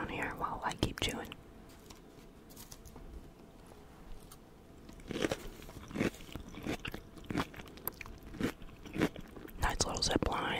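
Close, wet chewing and crunching of spaghetti and salad, with soft bites and scrapes in irregular bursts while a person whispers intermittently.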